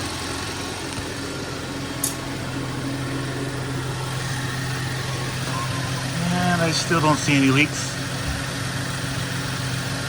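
A BMW car engine idles steadily through a coolant bleed, a constant low hum running underneath while a person talks close by.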